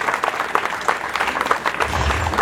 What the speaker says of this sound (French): Est-ce que nous pouvons bénir Dieu avec des acclamations